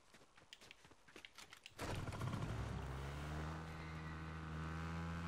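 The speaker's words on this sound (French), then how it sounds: "je vais prendre une moto" Motorcycle in Far Cry 6 starting up amid clattering, then settling into a loud steady engine drone that holds for several seconds.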